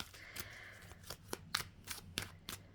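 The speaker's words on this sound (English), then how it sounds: "But let's shuffle them back in." Tarot cards are shuffled by hand in quick riffling bursts, several short papery flutters and snaps in a row, close and fairly quiet with no talking.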